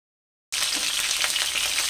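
Half a second of silence, then cauliflower fries in mustard oil in a wok, a sudden bright sizzle that holds steady and close with faint crackles.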